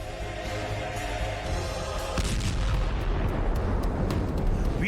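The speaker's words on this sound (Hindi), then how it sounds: "इस टैंक पर यूक्रेन की फौज एंटी टैंक गाइडेड मिसाइल से हमला करती है। टैंक में धमाके के बाद" An anti-tank guided missile strikes a Russian tank during fighting in Ukraine: a sharp distant blast breaks partway through, followed by a sustained rumbling roar and scattered pops.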